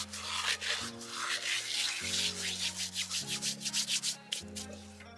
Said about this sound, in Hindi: और अब डालेंगे इसमें 1 टीस्पून अजवाइन, जिसको इसको भी हम हाथों से क्रश कर लेंगे।